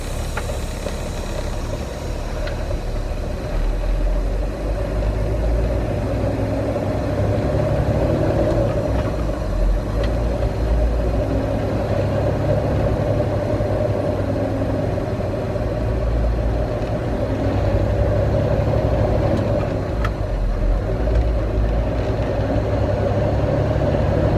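A truck with a 13-speed transmission runs with its engine droning in a loud, steady rumble that holds nearly constant from start to finish, with no talking.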